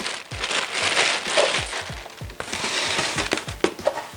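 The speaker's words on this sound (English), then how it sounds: "I'll just unwrap that quickly." Packaging unwrapped from a Godox SL-200W LED light: close crinkling and rustling of plastic wrap in a steady stream, punctuated by sharp crackles and small knocks, with no talking.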